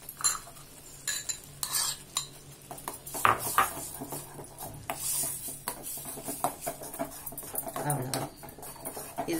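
Spoon stirring Kerala coconut buttermilk chutney in a pot, soft intermittent scraping and clinks of metal, fairly quiet, with a dog whining faintly in the background.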